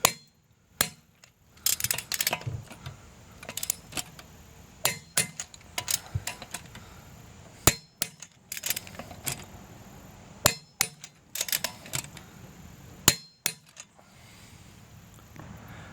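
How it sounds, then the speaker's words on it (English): Lug nuts on a 2013 Chevrolet Malibu wheel are tightened with a torque wrench, producing a long run of sharp metallic clicks and clanks at irregular intervals, close and fairly quiet, with no speech. "we're going to go ahead and tighten these lugs to 100 foot-pounds"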